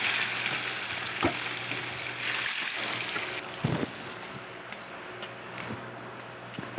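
Fish seasoned with salt, turmeric and garlic sizzles in hot oil in a home kitchen. A steady frying hiss runs through the clip, louder at first and softer later, with a few clinks and bumps near the pan.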